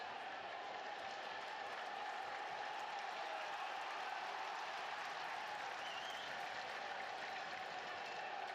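Stadium crowd at a Southampton vs Millwall Championship football match, a steady broad roar of applause and crowd noise filling the whole stretch at moderate level, with no single voice standing out.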